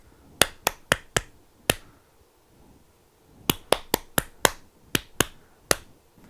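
Crisp, close hand claps beat out a song's rhythm in two phrases, five claps, a pause, then a longer run of quick claps.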